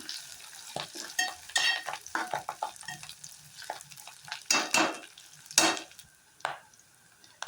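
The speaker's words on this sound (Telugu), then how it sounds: "దీంట్లోకి ఒక 2 రెబ్బలు కరివేపాకు వేసుకొని బాగా కలుపుకుందాము" Curry leaves crackle and sizzle in hot oil in a pan on medium-low heat for a cabbage curry, with repeated scraping stirs and bright spitting bursts, close and fairly loud, with no talking.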